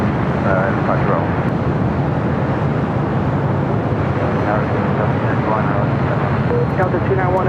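A jet airliner at LAX rolling down runway 25 right for departure, a loud continuous engine roar with the radio chatter of air traffic control speaking over it throughout.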